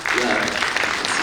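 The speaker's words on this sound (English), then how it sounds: "It's worth some applause" A festival audience in a hall at a Lahore Literary Festival panel on South Asian poverty gives a short burst of applause, a dense wash of clapping with a voice speaking over it.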